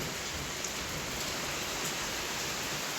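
Steady rain hisses evenly, a dense continuous patter with no breaks or other sounds.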